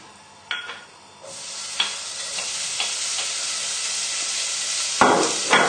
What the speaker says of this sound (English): just give it a little stir around in the pan to check it's not sticking